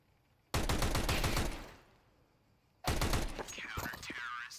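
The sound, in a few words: Tec-9 pistol gunfire in Counter-Strike video game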